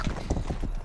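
Horse hooves clip-clop in a quick rhythm of several close, distinct knocks as a charger horse moves in the western video game Rustler.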